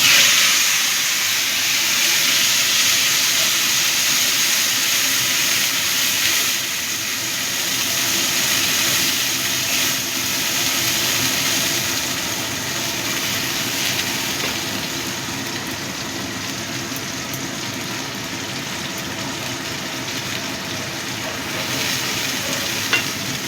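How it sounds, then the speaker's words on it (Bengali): Onion and tomato paste frying in a pan for a Bengali katla fish kalia curry, a steady close sizzle and hiss with stirring that runs throughout, no talk. "এবার আমি এর মধ্যে যে পেঁয়াজ আর টমেটোর পেস্ট করেছিলাম সেটা দিয়ে দিচ্ছি।"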